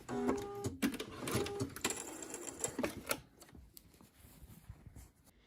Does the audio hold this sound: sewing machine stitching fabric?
yes